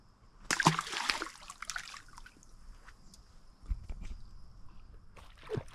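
Small jack fish dropped back into the water, a sharp close splash and splatter early on, followed by quiet trickles, faint handling noises and a soft later slosh.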